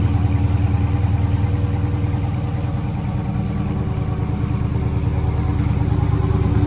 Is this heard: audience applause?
no